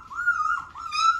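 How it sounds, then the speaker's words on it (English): Very young puppies whimper and whine in a few high, wavering cries that rise and fall, close and fairly soft, over quiet background. "All the sweet little puppy noises that are starting."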